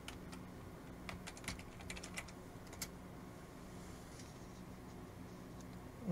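Computer keyboard keys tapped in short bursts while entering an IP address on a PC, the clicks moderately close over a steady background hum, with a louder cluster of keystrokes early on, then quieter.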